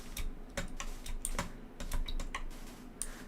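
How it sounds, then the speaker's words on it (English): Computer keyboard typing during a Minecraft gaming session, a steady run of close, crisp key clicks with irregular rhythm and no talking. "I can hear your keyboard."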